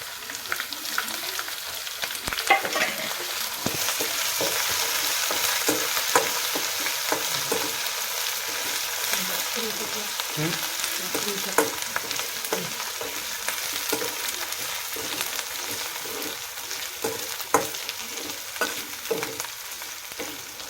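Browned onion and chopped garlic fry in a pan for an egg curry, with a constant crackling sizzle under frequent scraping and clinking from stirring, close and steady throughout.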